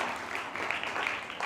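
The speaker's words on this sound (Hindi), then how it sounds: "तालियां बजाएं, जरा जोर से तालियां बजाएं" Audience at a children's Christian convention claps in unison, a moderately loud, rapid, continuous patter of hands with no break through the short stretch.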